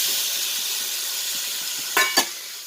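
A steady, close hiss of sizzling as tomato goes into a crab curry cooking in a hot pan, with two brief sharp clinks near the end.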